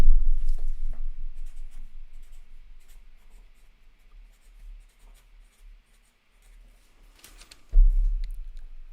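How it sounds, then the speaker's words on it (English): A pen scratches on paper in quick, uneven strokes that are close but faint, with a soft thump and rustle at the start and again near the end, and no talking. "I'm writing it down."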